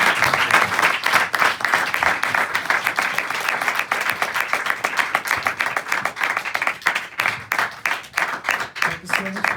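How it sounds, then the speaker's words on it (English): Sustained applause from a festival audience after a class on lessons from the Ramayana, dense steady clapping that fills the whole stretch, loud and close, with scattered voices mixed in. "Can we have a huge round of applause for the class?"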